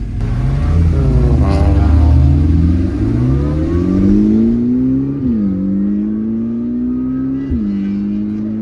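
A sports car engine revs hard as it accelerates in manual mode, its loud rising tone climbing through the gears with audible shifts and sustained high-rpm roar, no talking over it.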